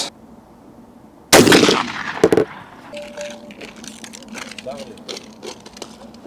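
A Sechkin Arms shotgun fires a slug in a single loud, sharp blast with a ringing tail, followed by faint clattering and a person talking nearby.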